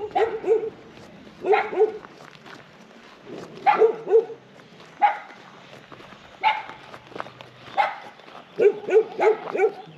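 Several dogs bark in short repeated bursts, near and loud, with a few whimpering yips between them, in a rural stop along the Tren de las Sierras railway in Córdoba, Argentina.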